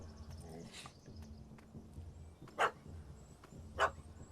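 Puppy barking at a cat up a tree in the video game The Witcher 3: Hearts of Stone, heard as two short, distinct barks over a quiet, low ambient background.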